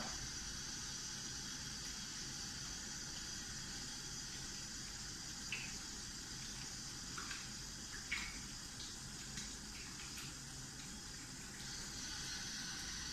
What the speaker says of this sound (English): as you can see, the faucet is just turned on